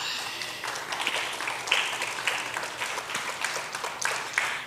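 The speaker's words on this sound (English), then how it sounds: "feel free to clap" Audience at a school graduation ceremony applauding, a steady wash of many hands clapping at moderate distance, fairly quiet, sustained throughout without talk.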